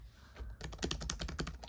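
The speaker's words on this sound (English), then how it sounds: "so the keyboard, very nice to type on" Rapid, close key clatter from typing on a ThinkPad laptop keyboard, a quick run of crisp keystrokes starting after a brief quiet moment.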